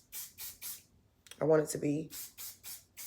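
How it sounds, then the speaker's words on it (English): Hair spray hisses in repeated short bursts onto a braided ponytail, three quick sprays, then a brief spoken phrase, then four more bursts, all close and fairly loud. "I'm just going to spray a little bit of this."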